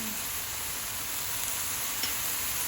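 Babog fries in a pan for a shrimp bihon and miki noodle dish, a loud, close, continuous sizzle that holds steady for a few seconds with no voices.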